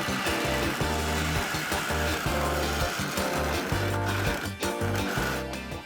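Metal exhaust pipe being cut with a power tool during a Mazda exhaust leak repair, a loud continuous grinding-saw whine with steady pulsing mechanical tones, close and alone with no talk.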